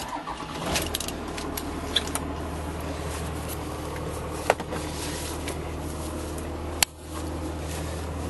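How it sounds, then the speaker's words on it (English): A truck engine with no electronics cranks and starts from cold, then settles into a steady low idle, with a sharp clunk late on and no talk over it. "Starting from cold, I really like this truck."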